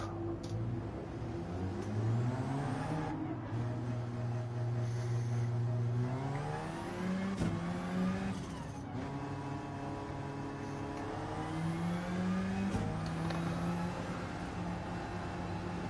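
An Alfa Romeo GT3 race car in the racing game Gran Turismo 7 revs hard through repeated upshifts, its engine note climbing, dropping and climbing again, loud and continuous with no talking.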